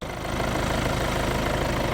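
A 2.2-litre diesel engine in a 2018 Kia Carnival nine-seat Noblesse idles with a steady, dense rumble and a faint knocking clatter, loud and continuous throughout.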